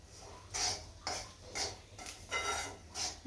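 Semolina (rava) roasting in a pan on a home stove, with a spoon stirring and scraping in six or so rhythmic strokes, each stroke a gritty metallic swish, close and fairly quiet.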